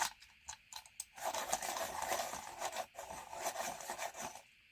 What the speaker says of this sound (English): I do need to just sharpen one more time.